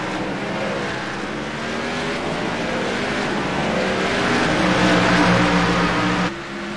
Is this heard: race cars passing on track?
yes